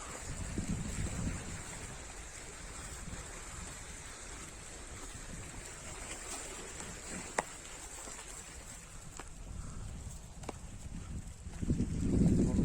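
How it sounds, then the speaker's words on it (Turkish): Strong wind sweeps a seaside cove at Didim, Turkey, as a steady, gusty rush buffets the microphone with a deep low rumble, no voices heard. "Burası çok rüzgarlı esiyor"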